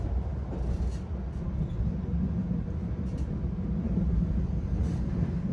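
A Malabar Priority passenger train rumbles along in a steady, loud low roar with faint rattling, heard continuously from inside as it travels.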